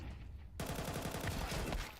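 Rapid sustained M4A1 rifle spray in a Counter-Strike match, a dense burst of fast shots starting abruptly after a brief quieter moment and continuing as close, loud, rattling fire.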